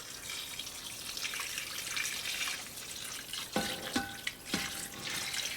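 Warm water pours into a roaster full of chicken and vegetables for homemade stock, a close, steady rush of liquid with a few splashy drips and clinks near the end.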